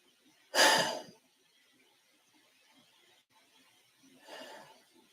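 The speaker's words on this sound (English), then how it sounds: "practicing proper deep rhythmic breathing" Two deep breaths during a mouth yoga exercise: a loud, close exhale or sigh early on, then a softer, airy breath a few seconds later, with quiet between them.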